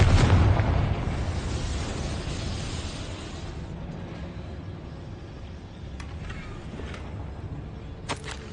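A Confringo fire spell bursts in Hogwarts Legacy, a single booming blast at the start fading into a long rumbling roar of debris and ambience with faint clicks afterward, no talk.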